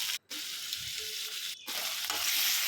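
Egg masala frying with turmeric and ginger garlic paste, a steady sizzle broken by two brief dropouts, with occasional stirring scrapes in the pan and no voices.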